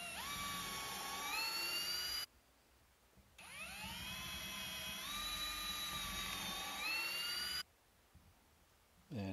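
A power drill pre-drills screw holes in a wooden farmhouse coffee table frame, whining steadily in two long runs with a short pause between, close and fairly quiet.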